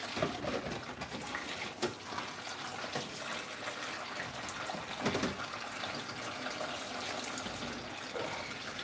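Running water pours steadily over freshly dyed fabric being rinsed, a close, even gush with occasional louder splashes, and faint bird calls in the background.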